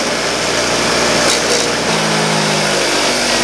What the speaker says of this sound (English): I'm just gonna use the bench grinder.